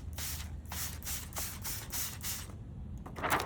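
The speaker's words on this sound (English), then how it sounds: "We'll spray this off, or spray some slip on the tank here." Slip solution is sprayed in a run of about six short hissing bursts while paint protection film is laid onto a motorcycle tank, followed by a quieter rubbing sound near the end, with no talking.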